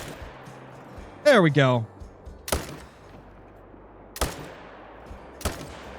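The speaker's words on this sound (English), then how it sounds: "Seems like it was a bad shot, so we'll have to shoot him again." Three sharp rifle shots aimed at Ronda ibex while hunting in the video game Call of the Wild, spaced a second or more apart, each ringing out with a short echoing tail, following a brief spoken phrase.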